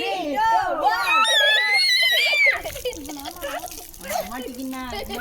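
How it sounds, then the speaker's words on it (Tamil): Water is poured over someone during a Tamil movie-quiz challenge at home, splashing amid loud shrieks and excited children's voices. "தண்ணியை ஊத்தவும்."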